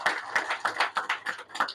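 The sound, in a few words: applause for tribute at ceremony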